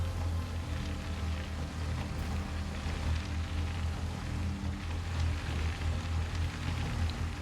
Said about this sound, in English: Why is it constantly raining?